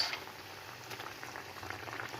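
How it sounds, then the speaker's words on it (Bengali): Spiced water simmering in a pot for a fish and bori curry, a faint steady bubbling and popping heard nearby with no one talking. "একটু ফুট এসে গেছে মশলা আর জলটি ফুটছে"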